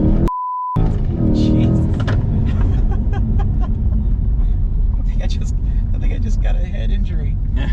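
Hard launch-control acceleration of a 2020 Corvette 3LT Z51 mid-engine car, a loud sustained engine roar that stays strong throughout, with people talking over it.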